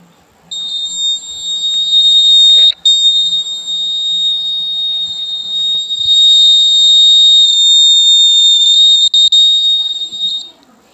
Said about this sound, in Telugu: ఈ బజర్ సౌండ్ చూసుకుంటే మనకి ఇలాగ వస్తుంది.